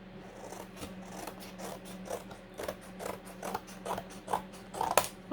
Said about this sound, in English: we're going to cut these out